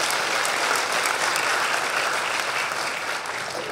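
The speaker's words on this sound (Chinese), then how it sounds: "那我们是不是以掌声来谢谢我们许董事长？" Steady, dense applause from a large audience at a Taiwanese business community Lunar New Year gathering, a broad even wash of clapping that holds throughout and fades slightly toward the end, with no talking over it.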